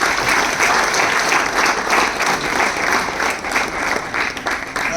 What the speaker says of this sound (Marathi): जोरात जोरात टाळ्या